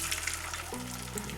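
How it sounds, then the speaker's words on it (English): Eggs sizzling in a hot carbon steel pan while a classic French omelette is made; a steady, fairly loud frying hiss runs through the clip without a break, and a low hum underneath grows slightly stronger partway through. "A little bit of sizzle, that's fine."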